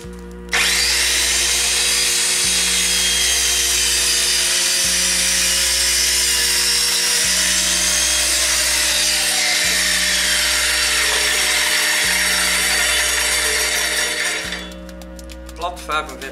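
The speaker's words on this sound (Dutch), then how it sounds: "Mijn zaag komt er onderdoor." A radial arm saw cuts through wood at a 45-degree angle, its motor whining loudly and steadily for about fourteen seconds with a harsh blade rasp, then spinning down at the end.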